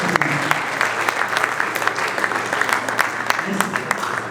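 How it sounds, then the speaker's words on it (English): Audience at a squash championship opening ceremony applauds the top table, a sustained even wash of clapping with scattered louder claps and some murmuring voices underneath. "let's give our top table a big round of applause"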